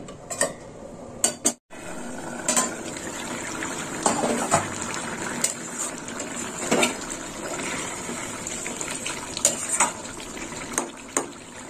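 Potatoes boil in extra water in a covered pot on the stove, a steady bubbling hiss with occasional clinks and knocks, close and fairly loud with no talk.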